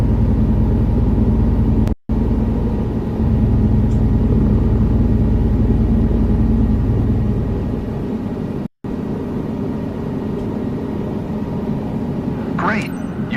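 A helicopter hovering at about 8 feet in Microsoft Flight Simulator 2024, a loud, steady, droning engine and rotor rumble that carries on throughout with two brief dropouts, under a voice talking.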